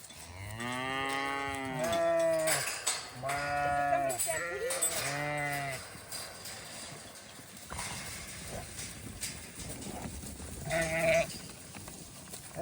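Sheep on an Australian homestead during lambing season give several loud, close bleats in quick succession, then a quieter stretch of outdoor background, then one more bleat near the end.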